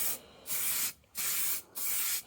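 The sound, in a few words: spraying Halfords plastic filler primer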